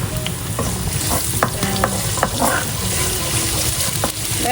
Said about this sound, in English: we shall put in the garlic first